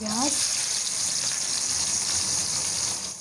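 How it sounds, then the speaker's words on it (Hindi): Onions fry in ghee with a loud, dense, continuous sizzle, close by and unbroken for the whole stretch; a brief voice is heard right at the start. "प्याज़ों को हमने 4 से 5 मिनट फ्राई करना है"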